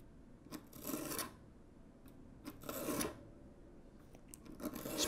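A knife is drawn through the coarse diamond stage of an ArtDeHome two-stage sharpener, making three quiet, rasping scrapes, each about a second long, with short pauses between them.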